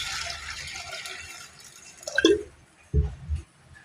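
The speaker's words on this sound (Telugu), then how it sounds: "దీంట్లో తగినంత వాటర్ పోసుకోవాలి" Water pours and splashes into a metal pressure cooker holding lentils for a moment, followed by a couple of hollow knocks and clunks.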